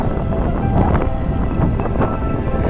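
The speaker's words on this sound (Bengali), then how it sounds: "এই ট্রলারের জন্য রাস্তা করা আছে ট্রলার আসছে" A fishing trawler approaches at a fish market harbour with a loud, continuous engine rumble and wind buffeting, close by, with no one speaking.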